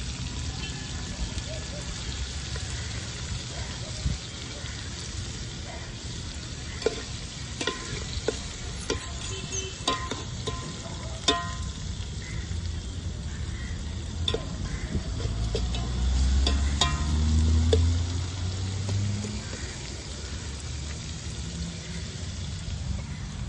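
Food stirred and sautéing in a pan over a roadside cooking fire, a steady low frying sizzle with scraping stir strokes throughout, fairly close, with voices talking faintly in the background.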